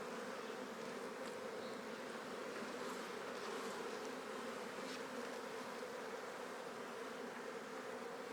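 Honey bees swarm around an opened hive during a colony split, their dense, steady buzzing filling the air continuously at close range, with no pauses and no voices.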